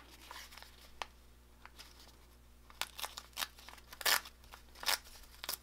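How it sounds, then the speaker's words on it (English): Foundation paper is pulled and torn off a stitched quilt piece in short crisp rips and crinkles, sporadic at first and then louder and closer together. "Pull your paper off."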